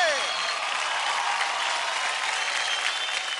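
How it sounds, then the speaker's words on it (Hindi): A studio audience at a children's dance reality show gives loud, sustained applause for a performer named Scooby, a thick continuous roar of clapping with crowd noise mixed in. "जोरदार ताली हो जाए स्कूबी के लिए"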